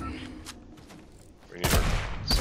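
A rocket launcher fires in a shooter video game with a sudden loud blast and rumbling boom near the end. Quieter game noise and faint talk come before it.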